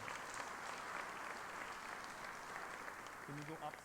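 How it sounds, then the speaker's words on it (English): Steady applause fills a hall at the Farmington Sports Hall of Fame induction ceremony, a dense, even crowd clapping sustained throughout, with a brief voice rising near the end. "So a round of applause, please, for the Farmington School District"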